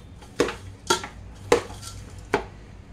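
A spoon knocks against a bowl four times at a steady, unhurried pace while a nutritious laddu mixture is mixed, each tap crisp and close with a quiet background in between.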